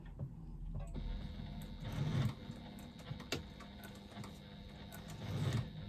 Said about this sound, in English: now I'm going to stitch down the side, along the bottom and up the other side to secure my pocket in place